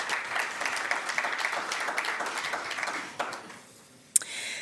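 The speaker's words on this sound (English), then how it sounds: "Let's give them a round of applause." Audience applause at a pre-budget discussion event held by the Economic Association of Namibia, steady dense clapping for about three seconds that fades into quiet, with a brief sharp knock near the end.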